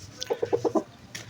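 An Aseel rooster clucks five times in a quick, even series, close by and moderately loud, after being let out of its cage, with light background noise.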